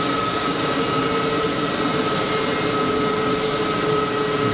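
An easyJet Switzerland Airbus A320neo at Geneva Airport gives a steady, moderately loud jet engine roar with a faint whine, constant throughout with no talk.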